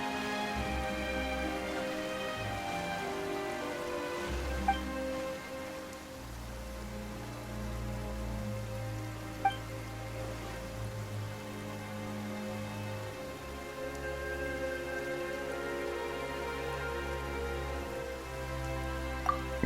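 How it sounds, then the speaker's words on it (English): Rain falling in a Genshin Impact scene, a steady soft patter under a continuous game music score, with a few faint chime-like plinks scattered throughout. "Why is it raining all of a sudden?"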